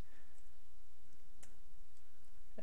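Arrow keys tapped on a computer keyboard during slide editing: a couple of faint, sharp clicks spaced apart over a quiet background hiss, with no talking.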